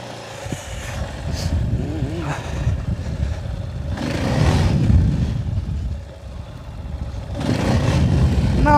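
A Yamaha TT 600 E motorcycle engine revs hard in repeated surges during a wheelie, rising and falling, loud and close with some clattering.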